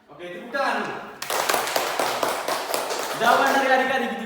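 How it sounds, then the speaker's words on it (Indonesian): Children in a classroom break into a short burst of clapping for a classmate's answer, dense hand claps near and loud, with young voices chattering at the start and end. "Oke, tepuk tangan dulu."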